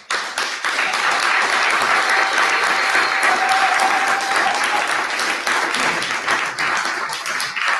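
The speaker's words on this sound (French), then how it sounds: "puis on va les applaudir" A live audience applauds a team walking on stage at the Hack My Bible 2018 hackathon presentations. The clapping is dense and steady, and stays loud and sustained for the whole stretch.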